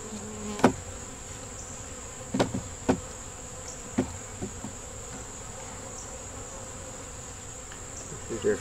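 Honeybees hum in a hive, a steady close drone broken by sharp clicks and knocks as frames are shifted, with a few louder thumps spaced through.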